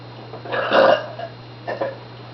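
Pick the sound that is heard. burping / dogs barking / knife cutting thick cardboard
burping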